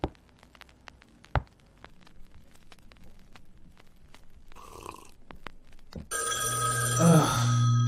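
A phone rings loudly near the end after a stretch of quiet clicks and faint shuffling, the bright ringing tone sustained for about two seconds.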